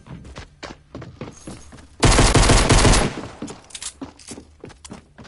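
Loud burst of rapid SMG fire in a video game, a dense stream of shots lasting about a second amid quieter game sounds and footsteps.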